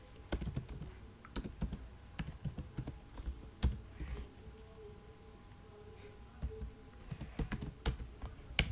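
HTML code is typed on a computer keyboard in quick, uneven runs of close, crisp key clicks, with short pauses between bursts.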